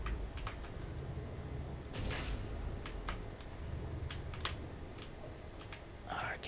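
Keys clatter on a mechanical computer keyboard in quick, uneven bursts of close, crisp clacks, with a voice talking now and then in between.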